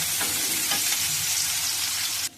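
Ingredients fry lightly in mustard oil in a pan, giving a steady, close, bright sizzle with faint stirring scrapes, cut off abruptly at the end.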